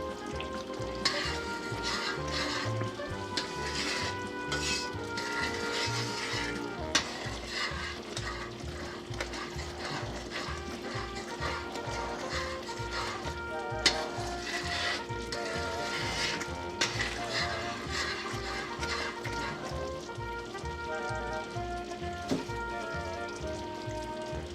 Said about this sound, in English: So you gotta keep on stirring it at this point